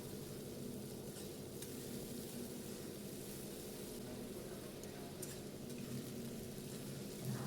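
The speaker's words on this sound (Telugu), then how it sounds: "దాన్ని బాగా వేగాలి కొంచెం." Onion paste fries in a pan with whole spices, green chilies, pepper and a cinnamon stick for a fish curry, a soft, even sizzle with faint stirring, low and steady throughout.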